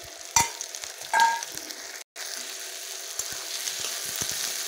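Potatoes fry in a pan with black cumin, onion, chopped chili and tomato, giving a steady close sizzle broken by a few sharp clatters and stirring scrapes, with one brief cut near the middle.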